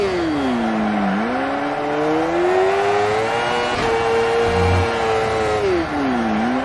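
A Crosskart engine revs hard while driving, a loud, close, buzzy drone rising and falling in pitch with throttle changes and gear shifts, continuous throughout.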